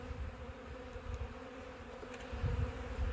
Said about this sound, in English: There's a nice bunch of bees on the inner cover there.